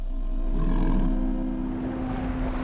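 Steller sea lions roar and bellow on the shore in a deep, throaty, continuous chorus, loud and fairly close, with overlapping growling calls rising and falling and no talking.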